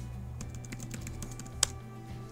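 Computer keyboard keys tapped while entering a password in a Linux terminal: a quiet, steady run of light clicks, with one sharper keystroke standing out near the end.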